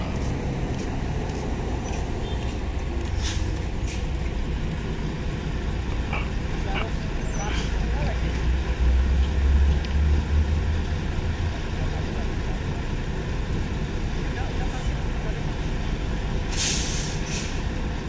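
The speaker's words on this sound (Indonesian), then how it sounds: "bis ngalir terus yang masuk ke Dermaga Express" Buses rolling into a ferry port dock at night, a steady loud drone of heavy engines and road rumble with occasional air-brake hisses and clanks.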